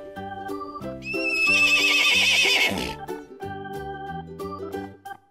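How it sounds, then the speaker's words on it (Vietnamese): A horse gives a loud, close whinny, rising to a shrill, quavering peak before falling away, set against a bright looping children's melody that carries on after the call. "Đây là con ngựa."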